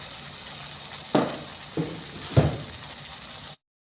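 Turmeric and chili powder frying in hot oil in a pan for a cauliflower sabji, a soft steady sizzle with three brief louder scrapes or stirs, no talking, ending abruptly.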